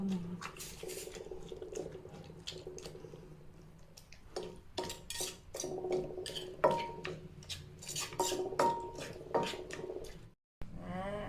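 Tomato chili paste stir-fried dry in a pan, with scraping spatula strokes, clinks and soft patter of cooking, irregular and moderately close, plus faint background voices.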